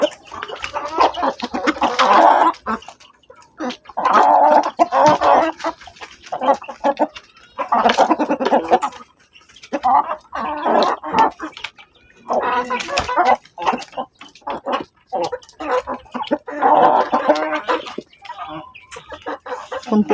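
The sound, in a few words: pet chickens clucking while eating coconut feed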